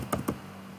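A single Enter key press on a computer keyboard while configuring a Cisco router, giving a short close double tap followed by quiet.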